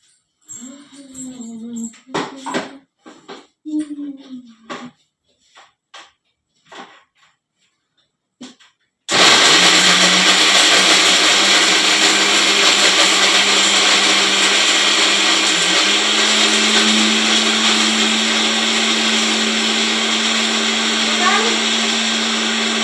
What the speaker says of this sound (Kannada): ಇದನ್ನ ಮಿಕ್ಸಿ ಮಾಡ್ಕೊಂಡು ಬರ್ತೇನೆ